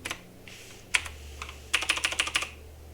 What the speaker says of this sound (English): I'm just going to hit the page up button on my keyboard to bring it above.